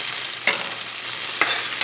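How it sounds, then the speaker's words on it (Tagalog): Tomatoes sauté in a hot pan for a Filipino radish and chicken dish, a steady close sizzle broken by two or three scraping stirs, with no talking. "Gisa-gisa natin kamatis"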